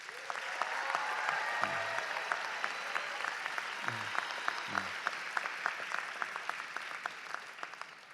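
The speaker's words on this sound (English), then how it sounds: "I ask our graduates to give their family and friends a warm round of applause." Graduates at the Brooklyn Law School 125th commencement ceremony give a warm round of applause to family and friends: a large crowd clapping steadily and fairly loudly throughout, with a few brief voices low underneath.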